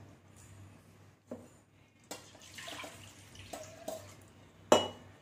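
Washed pasta being put into a cooking pot in a home kitchen: scattered soft knocks and wet clatter, then a sharper splash and clunk near the end, fairly quiet and close.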